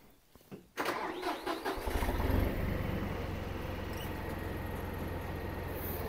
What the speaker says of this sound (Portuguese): Agora a gente vai ligar o trator aqui